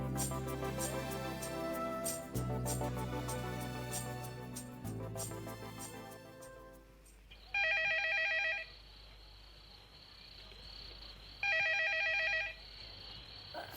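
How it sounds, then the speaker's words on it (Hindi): A telephone rings in two bursts of trilling bell, each about a second long and separated by a pause, after a stretch of sustained music that fades out. "फोन उठाने की जरूरत नहीं है"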